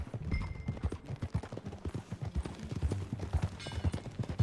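Horse hooves clip-clop in a steady trotting rhythm, close and fairly loud, in the Western video game Red Dead Redemption 2, with a low ambient rumble under the beats.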